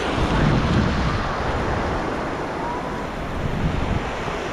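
Ocean surf and wind at New Smyrna Beach, Florida: a steady, loud, broad wash of breaking waves with constant wind buffeting the microphone and no clear voices.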